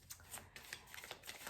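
Tarot cards are shuffled close up in quick, soft riffling bursts, a rapid papery patter of overlapping card slaps that is faint and steady, with no talking.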